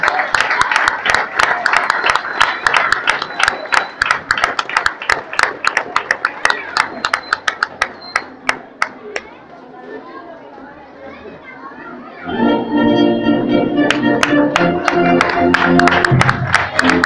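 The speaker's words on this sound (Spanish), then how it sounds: "Y le damos un fuerte aplauso a la bandera de ceremonia que se retira" A crowd claps for the ceremonial flag party leaving a school graduation celebration. The sharp, rapid clapping mixes with voices and children's chatter, fades after several seconds, and gives way to music.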